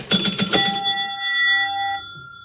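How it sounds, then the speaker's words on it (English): Bells on an electromechanical Fun Park pinball machine ring in a quick cluster of strikes, then a single chime rings out and decays slowly, close and clear with no talking. "so why am I starting to hear the bells?"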